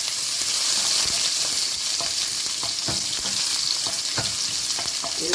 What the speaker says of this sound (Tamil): கொஞ்சம் வெங்காயம், கொஞ்சம் கருவேப்பிலை போட்டு இதை நல்லா ஃப்ரை பண்ணுவோம்